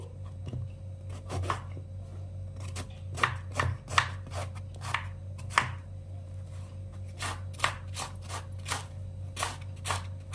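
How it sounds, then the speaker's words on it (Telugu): A knife chops through bottle gourd on a board in crisp, close strikes, spaced irregularly at first and then falling into a quicker run of cuts over a low steady hum. "ఇప్పుడు పప్పులోకి సొరకాయ కట్ చేస్తున్నానండి"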